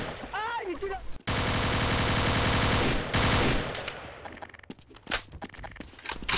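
Sustained bursts of rapid automatic gunfire in a prison-themed video game, long loud volleys broken by brief gaps, with a short burst of speech before the shooting and scattered clicks and single shots afterward.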